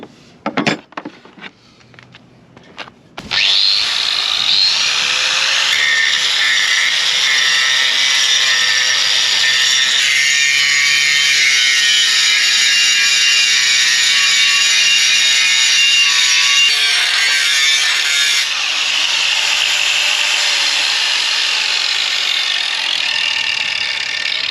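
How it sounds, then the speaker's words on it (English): An angle grinder strips rust and old paint from a sailboat's metal centreplate, a loud continuous abrasive whine running steadily for about twenty seconds after a few brief clicks and knocks at the start, no talking. "machine down the rust and some of the old paint with an angle grinder"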